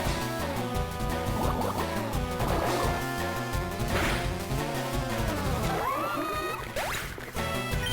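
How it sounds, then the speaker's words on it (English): Gastrodon, a Pokémon, lets out warbling, sweeping cries over steady video game music, with splashy, watery effects layered in. "The sound of that Gastrodon is so cool."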